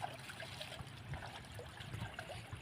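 Cold, clean spring water trickling out of a mountainside on a hill station in Koh-e-Suleman, a steady soft dribble that goes on without a break, fairly faint and close by, with no talk over it.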